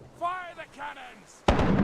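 Ship cannon fire in the pirate game Rise of Piracy, a single sudden loud blast with a rumbling tail that comes after a shouted voice.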